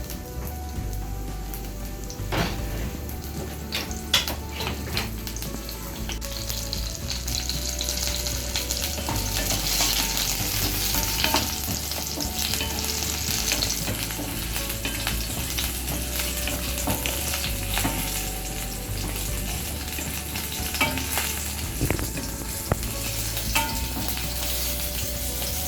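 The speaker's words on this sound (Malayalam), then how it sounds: "ഒന്ന് വഴറ്റിയെടുക്കാം." Onion sautéing in coconut oil in a pan, a dense crackling sizzle like rain patter that runs throughout, with occasional scrapes and taps of a stirring spoon, near and unaccompanied by speech.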